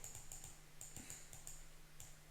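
Game controller buttons clicking during a Backyard Basketball match: a quick, irregular patter of light, close clicks in short bursts, with no voices.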